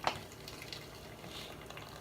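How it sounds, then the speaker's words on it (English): Stout poured in to deglaze a hot pan for a vegan, oil-free Scottish stout stew, giving a sharp hiss at first contact that settles into a steady, close sizzle and bubbling. "We deglaze."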